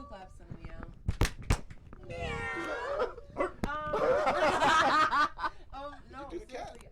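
Two sharp hand claps ring out close by, then a person's voice mimics a cat's meow, followed by laughter and lively chatter from several people.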